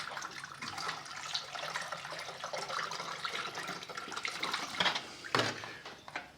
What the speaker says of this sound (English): I'm going to put a little bit of water in it.